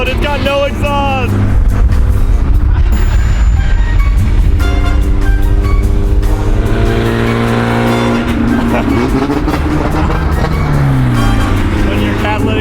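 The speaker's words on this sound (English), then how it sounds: "It's so loud, it's got no exhaust." A loud car with no exhaust fitted, heard close as its raw engine drones and revs steadily throughout, with pitch rising and falling as it accelerates, and voices talking over it.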